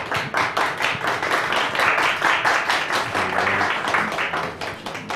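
A room of people applauds as a Küçükçekmece Tokat Bereketli Spor club president is welcomed onto the stage. The clapping is loud, dense and continuous and holds steady for several seconds.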